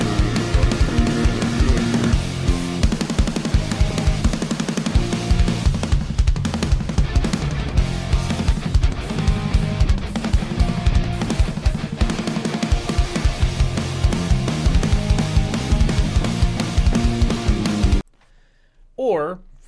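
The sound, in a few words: Music video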